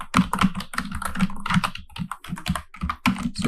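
Computer keyboard keys are pressed in a quick, uneven run of loud, close clicks and clacks, sounding alone without any speech.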